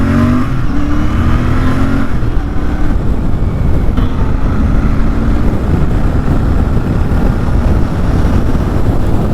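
A Royal Enfield Bear 650 motorcycle is ridden on a road, its engine droning loudly and steadily with rising and falling revs as gears change, close and continuous with heavy wind rush throughout and no talking.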